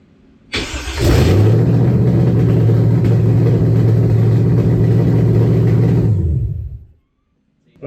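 A swapped engine in a C3 Corvette fires up with open headers, catching quickly and settling into a loud, steady, rumbling idle for several seconds before shutting off into silence.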